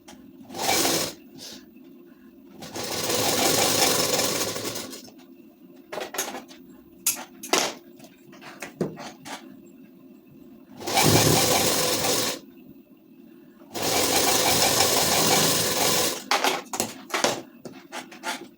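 Sewing machine stitching lace onto a ladies suit, several long loud runs of steady whirring broken by quieter gaps filled with clicks and fabric handling.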